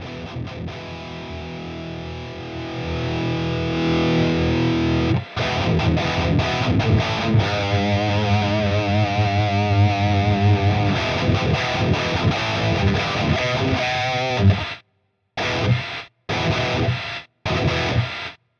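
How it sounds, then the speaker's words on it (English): Heavily distorted electric guitar through the Archetype Abasi amp plugin, played loud and sustained for about fifteen seconds, then cut off sharply by the noise gate into short choppy bursts separated by silence. "Alright, so you can hear there's a lot of noise going on in the amp,"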